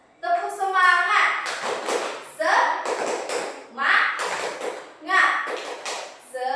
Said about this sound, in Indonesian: Ibu contohkan terlebih dahulu. Tepuk semangat.